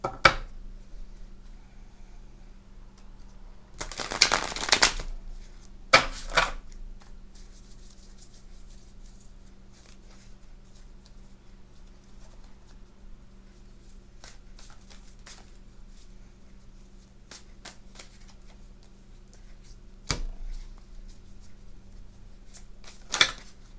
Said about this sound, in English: Shuffle them one more time